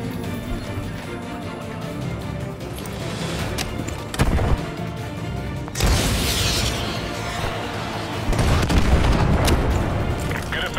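A BTR armored vehicle is blown apart in Call of Duty Modern Warfare 2, a loud deep boom rising out of ongoing battle noise, with further heavy blasts and rumble following and speech passing over it.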